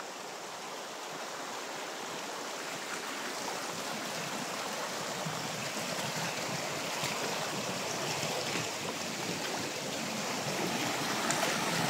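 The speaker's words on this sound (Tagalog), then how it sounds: "Daghang sapa." Stream water flows steadily in a continuous broad rush, fairly close and even throughout, with no voices.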